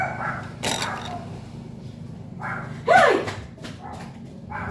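A dog gives a couple of short barks and yelps nearby, with some rustling and light movement noise in between.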